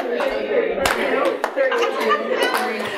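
An audience claps hands together in a rhythm exercise at a conference session, scattered sharp claps mixed with chuckles and people talking.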